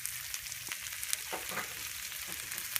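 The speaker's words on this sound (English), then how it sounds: "I will stir this around a bit" Marinara sauce thickened with tomato paste is stirred in a pot, a soft steady bubbling sizzle with a few low scraping strokes, quiet and close.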